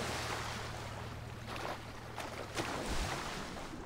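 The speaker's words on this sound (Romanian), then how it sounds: "aud motorul la iaht. Cred că pleacă iahtul." Yacht engine in GTA 5 hums as a low steady drone under wind- and water-like noise, fairly quiet and continuous, with a few brief louder splashes near the end.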